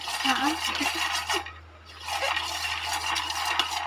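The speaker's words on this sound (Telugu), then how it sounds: "అటు ఇటు బాగా కలిపేసుకోవాలి." A small spoon stirs a laddu mixture in a pan, making close, soft scraping and rubbing sounds that pause briefly and then continue.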